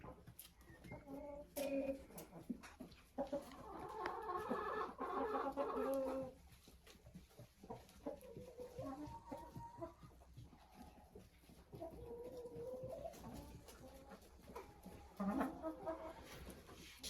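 Hens cluck and murmur nearby in irregular bursts, with other birds and faint background noise mixed in.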